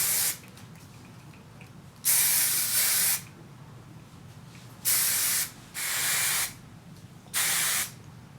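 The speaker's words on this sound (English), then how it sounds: "want to just hit it with some hairspray, and I like to lift up and spray in between" Hairspray from an aerosol can sprayed onto hair in four separate bursts, each a loud, steady hiss lasting about half a second to a second, with quiet pauses between them.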